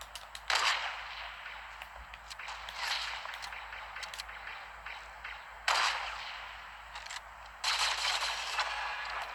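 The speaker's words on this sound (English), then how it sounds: "the laser rifle sounds pretty cool, I must admit" A laser rifle fires in the Fortnite Star Wars crossover game, with sharp blaster shots crackling in quick repeated bursts over a steady game background, moderately loud, with no talking.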